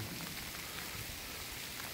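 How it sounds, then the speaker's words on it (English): Steady, soft patter of rain mixed with snow falling in woods near Crickley Hill, Gloucestershire, a continuous hiss with scattered drops and no voices. "This is rain, but actually like snowy rain."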